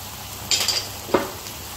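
Spices including goda masala, turmeric and red chilli powder being sautéed in a pan: a soft steady sizzle broken by a couple of brief scraping stir sounds, close and fairly quiet.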